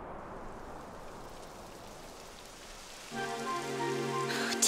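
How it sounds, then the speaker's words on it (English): Steady rain falls in the video game Dragon Quest XI, a constant hiss of drops on surfaces. Partway through, a layered musical tone enters and plays over it. "It would have to go and start rain."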